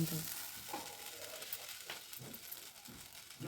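Dosa batter sizzling in oil on a covered pan, a soft continuous crackle with faint scraping and a few muffled clatters.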